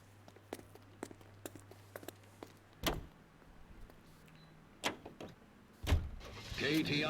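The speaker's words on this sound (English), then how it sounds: "Let's get back in our nice car then." In the video game L.A. Noire, quiet footsteps and clicks, then a couple of solid car door thuds, ending with an engine starting up.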